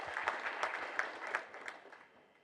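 A crowd claps at a memorial fundraiser celebrating a woman's life, with a dense, steady patter of hands close by that swells in brief peaks and tapers off toward the end.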